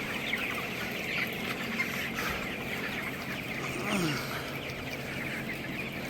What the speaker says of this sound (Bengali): এই যে দেখেন, এগুলো হলো মোরগ, সবই মোরগ।